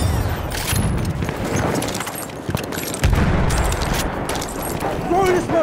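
Battlefield 1 combat on the Suez conquest map, with enemy machine gun fire rattling in rapid bursts among booms and chaotic battle noise, while voices shout over it.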